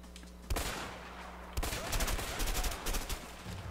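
Bursts of gunfire in a Mexican shootout from the co-op game A Way Out: a sharp shot, then a longer crackling volley of rapid shots, loud and close with no talking.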